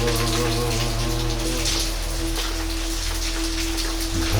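Steady rain patters and hisses across the scene in a dense, continuous wash, layered under sustained low tonal drones from a background score.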